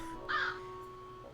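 A big bird in the video game Capy Castaway lets out a single loud, close caw over a low steady background hum.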